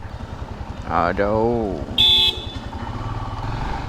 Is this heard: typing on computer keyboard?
no